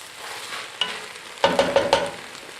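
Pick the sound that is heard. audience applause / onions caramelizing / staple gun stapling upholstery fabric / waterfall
onions caramelizing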